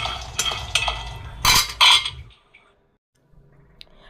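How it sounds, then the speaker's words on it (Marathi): Dry peanuts roasting over a low gas flame rattle and scrape inside an iron wok, with several sharp clinking bursts before things go mostly quiet. "गॅसवरती कढई तापत ठेवावी व त्याच्यामध्ये मंद आचेवरती शेंगदाणे भाजून घ्यावे"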